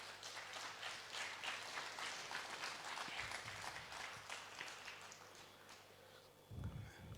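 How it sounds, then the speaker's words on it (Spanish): Applause from a church congregation fills most of the stretch, dense and steady, then fades toward the end as a few louder low thumps come in. "Dele un aplauso a Jesús."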